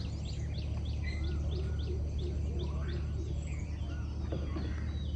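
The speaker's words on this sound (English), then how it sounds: "Bird noise." Early morning birdsong beside a river in Kerala: a steady run of repeated chirping calls with other birds and insects behind, all over a constant low rumble.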